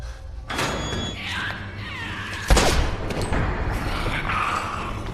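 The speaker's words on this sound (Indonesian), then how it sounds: "suara tembakan yang menggelegar menyebabkan zombie di ruangan lain mulai mengejar mereka" Gunfire from the 2013 zombie film World War Z: a sharp, booming shot cracks out mid-clip amid tense cinematic rumbling and thuds, with a few other impacts and effects around it.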